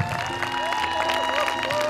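Applause and cheering from an audience honoring schoolchildren from Kerepes Széchenyi István Primary School after a living-flag choreography, steady clapping filling the whole moment with crowd noise and some voices mixed in.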